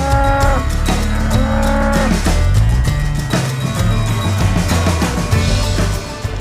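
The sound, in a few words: long-haired long-horned cows during a roundup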